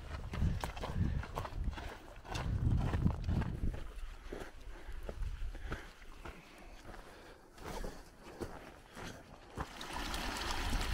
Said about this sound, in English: We made it to this babbling brook.